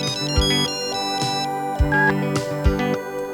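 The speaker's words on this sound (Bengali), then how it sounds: "আরে ফোন কে করছে?" A phone ringtone plays a repeating electronic melody with bright tonal notes and periodic thumping beats, loud and close, with no voices.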